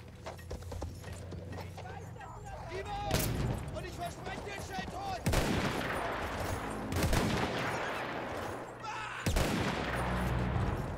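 Battlefield 1 campaign combat: sharp rifle shots crack out at irregular intervals over a busy battlefield rumble, with clip-clopping horse hooves and a voice talking throughout.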